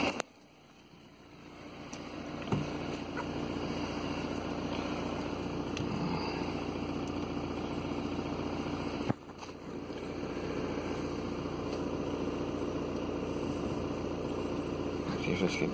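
A diesel engine idles steadily during a DPF cleaning, a constant low mechanical drone with a brief dip partway through. It sounds moderately close and carries on unchanged otherwise.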